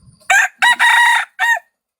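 A person imitates a rooster during a live stream, giving a single loud, close crow in a few sharp, shrill segments that lasts under two seconds.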